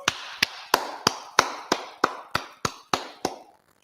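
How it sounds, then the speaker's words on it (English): A single person's slow, evenly spaced hand claps, about eleven sharp claps ringing out alone at moderate distance with a short room echo, then silence. "All right, clap it up."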